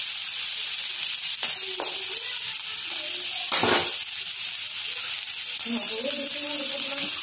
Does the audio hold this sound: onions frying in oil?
yes